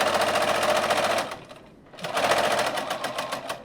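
A sewing machine doing a back stitch, a loud close rattling run that pauses briefly, then starts again at the same fast rhythm.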